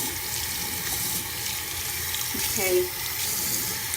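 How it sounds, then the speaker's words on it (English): Tap water running into a sink while warming up to wash makeup brushes, a steady close splashing rush throughout, with a short spoken word over it. "Now I turn on the water to"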